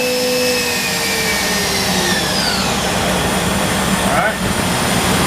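A Kiwa KH 4500 runs steadily at 15,000 RPM in good condition, a loud continuous whine with sustained motor drone and a brief dip near the end; a voice talks over it.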